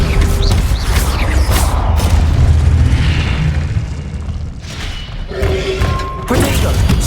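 Spell blasts in the Hogwarts Legacy video game: a dense run of booming magical impacts and crashes, loud and close, with a steady whooshing layer and a bright chiming tone near the end.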